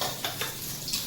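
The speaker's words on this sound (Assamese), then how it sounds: "মায়ে মাছ ভাজি আছে" Fish fries in a pan in a home kitchen, a soft steady sizzle broken by a few quick scraping stirs of a utensil against the pan.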